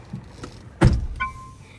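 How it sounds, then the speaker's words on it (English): A solid 2023 McLaren GT sports car door thuds shut nearby with a single heavy thump, followed by a faint electronic chime. "Let me close this door."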